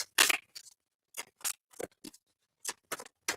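Tarot cards shuffled by hand, giving crisp papery riffles and snaps in irregular short bursts separated by brief silences, close and fairly quiet.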